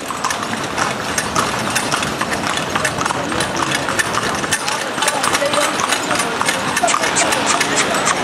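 Steady clip-clop of horse hooves on a hard road in Egypt with a rattling wagon and engine hum behind, voices talking over it throughout.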